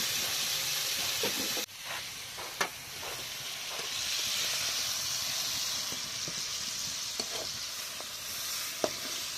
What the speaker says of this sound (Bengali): এই যে হালকা করে তেলে গোশ ভাজিয়ে নিল।